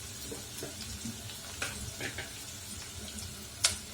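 Grated coconut goes into sautéed onions in a frying pan, giving a soft, low sizzle broken by light scattered clicks and one sharper scrape near the end.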